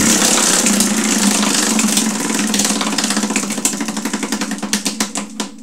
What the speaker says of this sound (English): We're going to spin the wheel and see what kind of prize we're going to give away.